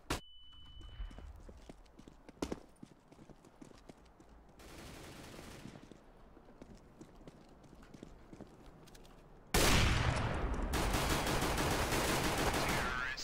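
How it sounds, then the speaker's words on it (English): A flashbang grenade goes off in a first-person shooter, a loud sudden blast that rings on as a bright, sustained burst over game footsteps and background noise. "Flashbang! Look away."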